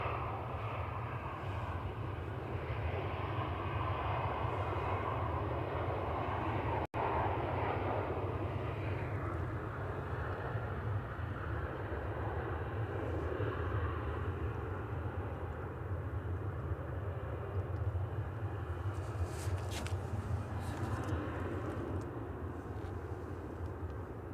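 A Boeing 737-800 jet at Manchester Airport gives off a continuous, moderately loud engine roar that slowly fades, with a sharp click early on and faint light sounds near the end.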